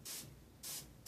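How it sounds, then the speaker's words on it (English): An airbrush gun sprays black paint while a dragon is being painted, giving short bursts of airy hiss, three in quick succession, close and fairly soft. "Gun is spraying out black now."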